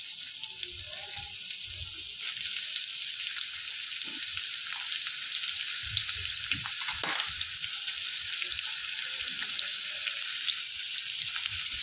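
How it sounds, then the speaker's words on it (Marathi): Chopped onion frying and softening in oil and ghee, a steady soft sizzle with faint stirring clinks and scrapes from the pan. "त्याच्यामध्ये थोडंसं तेल टाकून जो कांदा आपण चिरून घेतलेला आहे तो आपण छानपैकी असा नरम करून"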